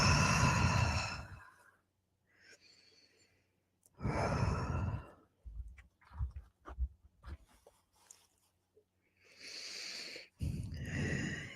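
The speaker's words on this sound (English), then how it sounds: "Let me take a couple breaths." A person takes several slow, deep breaths close to the mic, long airy inhales and exhales with quiet pauses and small nasal sounds between them.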